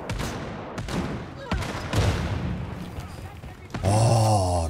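Gunfire in Wolfenstein Youngblood, a run of punchy shots and rapid bursts across the clip with a heavier rumble toward the end, amid game noise and a voice speaking over it.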